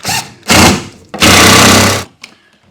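Power tool driving a screw into a 2x4, loud close bursts of whirring and grinding, a short one first, then a longer sustained run, ending with a brief faint tap.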